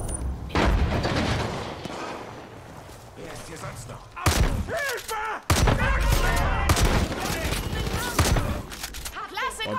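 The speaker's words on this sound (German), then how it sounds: "Das war ein Kopfschuss?" Gunfire in the video game Far Cry 5, with loud bursts of rapid shots and booming impacts in clusters, separated by quieter stretches, with voices talking over the action.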